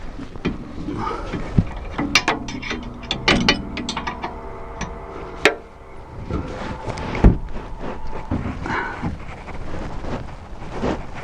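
Ratchet and metal clicks from tightening the lower bolt of a rear shock absorber on a VW Golf V, irregular bursts of ratcheting and clanks up close with workshop handling noise in between.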